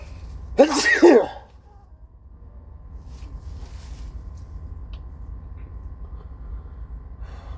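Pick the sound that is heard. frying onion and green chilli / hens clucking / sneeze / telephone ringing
sneeze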